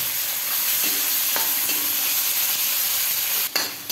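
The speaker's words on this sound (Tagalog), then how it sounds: "Medyo haluin po natin ng konti para luto masyado ang kamatis" Tomatoes, garlic and bitter melon sauté in a hot pan with a loud, steady sizzle, broken by a few scraping stirs of a spatula and a sharper clatter near the end.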